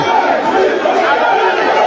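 A crowd at a Kampala pool match between Caesar and Jerry: dense, loud, continuous voices blending into a chant-like roar, with no gaps.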